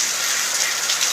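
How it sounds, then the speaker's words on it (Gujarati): Heavy rain falls in a dense, continuous hiss at farm fields, loud and steady throughout with no voices. "ફૂલ વરસાદ આવે છે, જોઈ લો"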